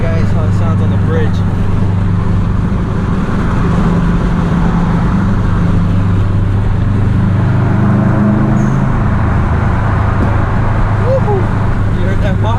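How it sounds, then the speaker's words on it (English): A Subaru STI with a loud internal wastegate roars steadily while driving over a bridge, a constant heavy drone of engine and intake with road noise throughout, near and loud. "The sound of the internal wastegate here, it's way louder"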